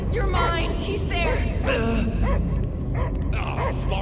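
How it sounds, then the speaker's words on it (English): A dog barks and yips in short bursts through the Guardians of the Galaxy video game, close and fairly loud, with voices and busy game sound mixed in throughout. "I hear only barking."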